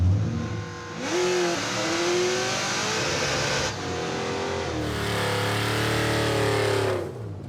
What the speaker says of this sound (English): Let's do a burnout this time.